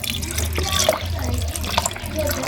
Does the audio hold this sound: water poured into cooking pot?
yes